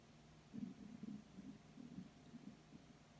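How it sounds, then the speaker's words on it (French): A hungry stomach gurgles and rumbles in low, irregular bursts for a few seconds, faint and close with no talking. "j'ai mon ventre qui a gargouillé"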